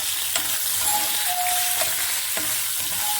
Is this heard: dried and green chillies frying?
yes